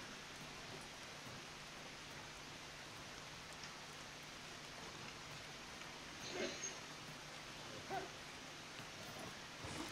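Steady rainfall in the video game Dark and Light hisses evenly throughout, with a couple of slightly louder patters near the end and no talking.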